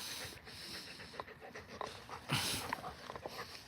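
A dog pants rapidly close by with a few soft whimpers and snorts, breathy and continuous against a noisy indoor background.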